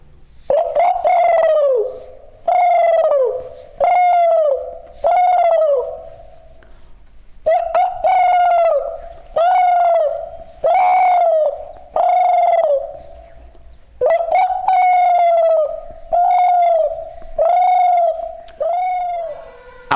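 A man imitates pigeon cooing with his voice, giving about fifteen close, loud, rounded coos in a steady rhythm, each separated by a short pause, with no other talk.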